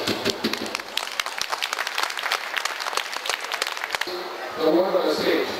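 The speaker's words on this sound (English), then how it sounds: "let's give the round of applause to our candidates for taking the time" An audience at an election candidates' forum claps in a scattered, moderately sized round of applause that stops abruptly after about four seconds, followed by a voice speaking close by.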